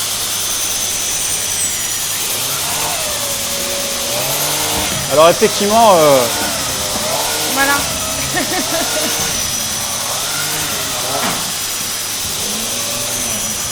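A Dyson DC52 vacuum cleaner with its brush head runs loudly and steadily throughout, a harsh broadband roar, while someone speaks briefly over it.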